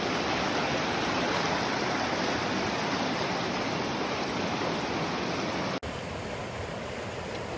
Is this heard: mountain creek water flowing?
yes